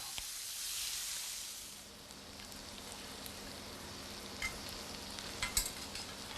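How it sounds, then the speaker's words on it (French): Trout fillets frying in butter in a pan, a steady soft sizzle and hiss throughout, with a few light clicks and taps toward the end. "Le chef fait revenir les filets de truite dans du beurre."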